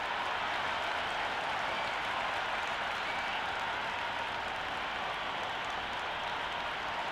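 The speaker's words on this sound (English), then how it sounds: "The crowd is up and about." Crowd applause in a video game cricket stadium during a Big Bash match between Brisbane Heat and Melbourne, a steady broadband roar of clapping and cheering that holds evenly and loudly throughout, with no talk over it.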